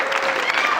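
A comedy club audience at the Troubadour applauds in a short, dense burst of clapping, loud and close, with a brief whistle over it.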